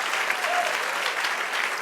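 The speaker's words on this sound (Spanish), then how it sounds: "Denle otro aplauso al Señor" A church congregation claps during a worship service, a brief dense burst of applause at steady loudness.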